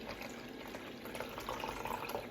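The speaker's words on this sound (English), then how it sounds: "So I'm just gonna dump water in," Water poured from a tap into a bowl sitting on a kitchen scale while measuring for sourdough, a quiet continuous splashing fill heard alone.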